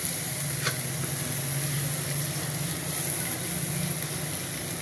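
Desi eggs frying in ghee in a pan give a steady, close sizzle that runs unbroken throughout.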